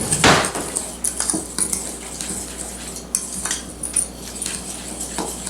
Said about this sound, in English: Okay, we're going to stir that up.